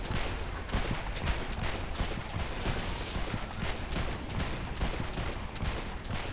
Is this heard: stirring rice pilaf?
no